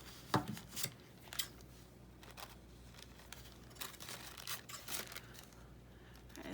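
Scissors cut a paper craft tag, making a few quiet, soft snips and crinkly paper rustles spaced irregularly apart, close by and faint.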